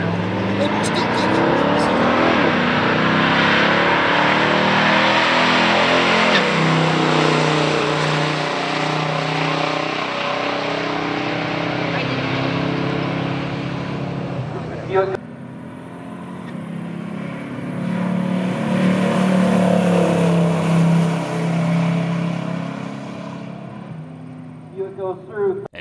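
A 1970 Buick GSX with a 455 engine and automatic transmission makes a stock drag strip run, its loud engine roar sustained as it accelerates down the track, fading and then swelling again, with a voice talking over it.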